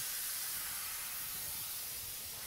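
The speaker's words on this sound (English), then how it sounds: "Within just a few minutes we can get all the fluid out of here with our Vacula." A Vacula vacuum brake bleeder draws brake fluid out during a brake pad job, making a steady, faint, airy hiss that continues unbroken.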